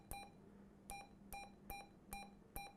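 Short electronic key beeps from a President Walker III CB radio, six evenly spaced sharp tones over roughly three seconds, close and clear with a faint background hum and no talk.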